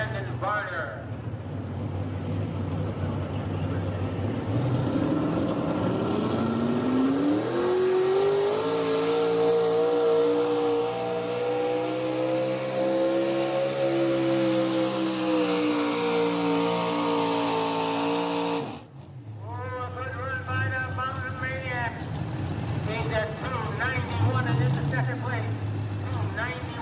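The Mountain Maniac pulling truck roars at full power during a truck and tractor pull in New Centerville, Pennsylvania, its engine climbing in a long, loud, rising howl before cutting off abruptly, with an announcer talking over the noise.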